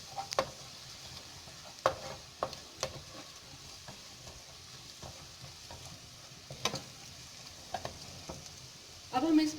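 Cumin and onions frying in a pan, a soft, fairly quiet sizzle with scattered sharp clicks and scrapes of stirring, alone without talk.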